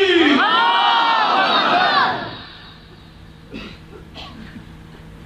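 A large crowd at a religious gathering in Mansehra roars a slogan in unison, a loud massed chant of many voices that fades after about two seconds into quieter room noise with scattered murmurs.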